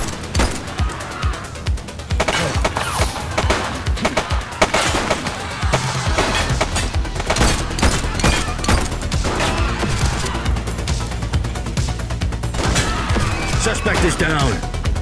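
Rapid gunfire rattles through a police shootout in The Precinct, with dense bursts of shots over a steady low rumble and a voice calling out among them.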